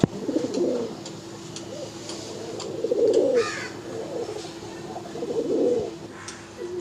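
Pigeons at the Uluberia pigeon market coo in three soft, rolling bursts over a steady low background hum, with faint chirps scattered around.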